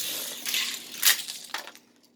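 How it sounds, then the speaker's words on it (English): A car in a racing video game slams into a sign, giving a short burst of crunching metal and clattering debris, a sharp impact near the middle followed by a smaller crash, then quiet. "Goes crashing into the sign, does a twirl on his roof"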